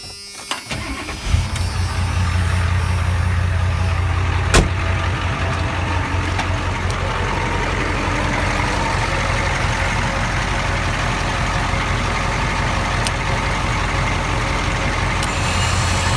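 A vehicle engine starts and then idles steadily to power a winch, a continuous close mechanical hum with a low steady drone.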